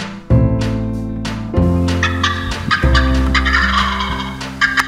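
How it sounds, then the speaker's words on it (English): A wild male turkey gobbles loudly and close on a grassy hilltop in the Badlands at dusk, several rattling gobbles in quick succession, with faint outdoor background. "I ventured out at dusk and followed the call of the male gobbler"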